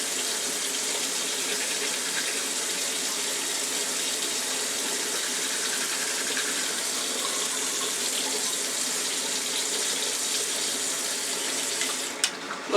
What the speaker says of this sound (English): I'm gonna turn off the water for a second.